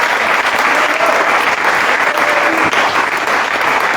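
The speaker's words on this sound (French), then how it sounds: "On va donner des acclamations pour la gloire de Dieu." Sustained, dense applause with cheering from a church youth-week audience, loud and steady throughout.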